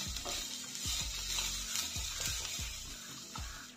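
Vegetables and semolina breakfast ingredients fry in a pan with a soft sizzle, while a spoon stirs and scrapes against the pan several times in a loose, irregular rhythm.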